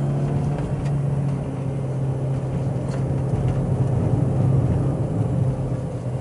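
A manual car's engine drones steadily at close range as the driver downshifts and blips the throttle on a twisty road, a continuous low hum with no talking.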